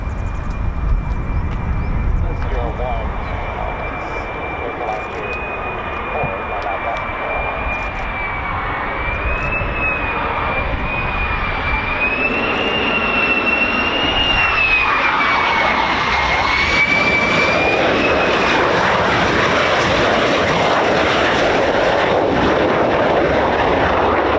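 Fighter jet, an F-15 or F-35 of a US Air Force fighter wing at RAF Lakenheath, on a low approach: a loud continuous roar with a rising, shifting whine that swells and grows broader toward the end, no talk.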